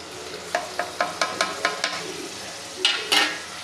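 Tomatoes in hot oil for a vrat thali dish, giving a steady sizzle with a run of regular scraping taps from stirring, followed by a couple of louder scrapes, close by.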